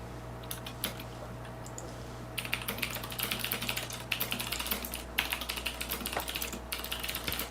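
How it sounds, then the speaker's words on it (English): Rapid clicking of a computer keyboard, fairly faint and close, in uneven bursts of keystrokes with a short lull partway through. "I love the keyboard noises."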